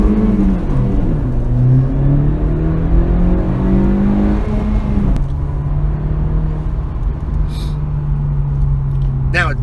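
A 2017 Honda Civic Si with a manual gearbox launches hard from about 4,500 rpm, its engine note climbing steadily through a gear, then shifting and pulling again at a lower pitch, loud and close from inside the car with a voice talking over it.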